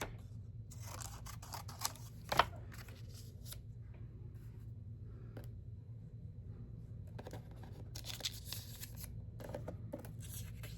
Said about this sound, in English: I am probably not in camera cutting these little tidbits off